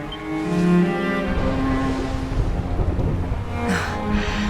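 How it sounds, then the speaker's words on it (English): A thunderstorm in the video game Dragon Quest XI, with a low, sustained rumble of thunder and rain under sustained musical tones from the game. "Would you look at it thundering away out there?"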